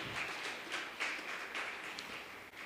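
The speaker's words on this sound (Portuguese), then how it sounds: "Você pode aplaudir o Senhor?" Church congregation applauding together, a steady dense patter of many hands clapping at moderate volume with no voices over it.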